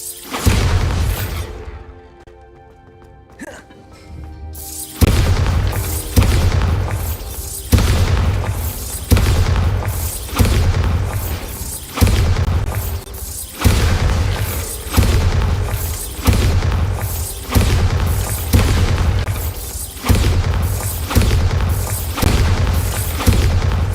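Bombarda spell blasts in a video game boom out one after another, a long run of heavy, loud explosions at a fairly regular pace after a brief quieter opening, with no talking.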